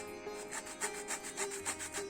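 Orange zest grated for carrot cake, a series of close, scratchy rasping strokes in an uneven rhythm, soft and without talk.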